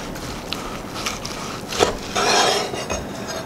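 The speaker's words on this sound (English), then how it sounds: "I'm gonna turn it this way so I can cut into it with this meat head knife" A knife slicing into a grass-fed Delmonico rib roast on a board, with soft scraping and light clinks and a short, firmer cut near the middle, all close and fairly quiet with no talk.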